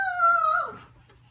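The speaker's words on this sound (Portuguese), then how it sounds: "A Gabi e as suas famílias de cachorrinho" A small pet dog gives a single high, drawn-out whimpering whine that slides downward and fades within about a second, close by.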